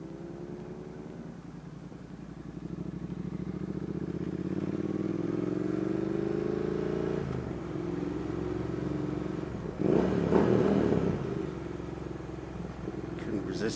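A decatted Triumph Thruxton R motorcycle with aftermarket end cans rumbles at a steady low throb, rising in pitch as it accelerates, with a brief louder burst of revving and clatter partway through.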